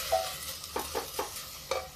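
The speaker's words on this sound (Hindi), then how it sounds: "इसको चला देते हैं, गैस तेज करके।" Food being stirred in a pan over a high gas flame, with a string of soft scraping strokes over a faint sizzle, close but moderately quiet, with no talking.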